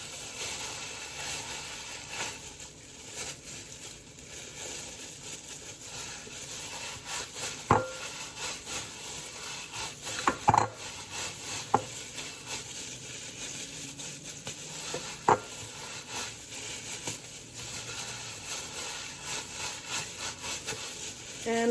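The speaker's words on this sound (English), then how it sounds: "I'm gonna mix it all in and blend it all in well before I add the chopped garlic." Seasoned raw beef being mixed by hand for fermented Cambodian nam, a steady squelching rub with a few sharper knocks against the bowl, close and continuous with no voices.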